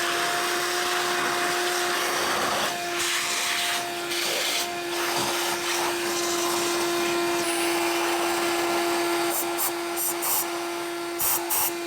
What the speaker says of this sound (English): We had the vacuum going the whole time, and then I shot some air in there with the vacuum running as well